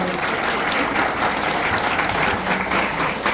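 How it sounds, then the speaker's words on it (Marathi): An audience claps loudly and steadily at a community festival gathering, dense close applause that holds throughout without cheering. "आपण वैशालीसाठी जोरदार टाळ्या वाजवूया"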